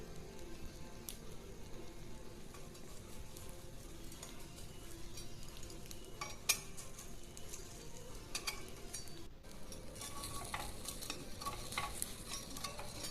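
A metal spatula scrapes a pan as it lifts chitoi pitha. Soft, scattered scrapes and a few clicks sit over a faint, steady sizzle, with no talking.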